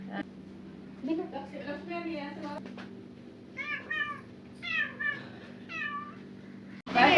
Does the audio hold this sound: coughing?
no